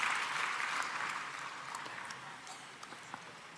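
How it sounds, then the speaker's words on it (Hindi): Audience applause welcoming a guest at an award ceremony in Bhopal honouring selected UPSC candidates, a fairly faint, even patter of clapping that slowly thins out over a few seconds. "तालियों से स्वागत करेंगे श्री दीपक डांगी जी का।"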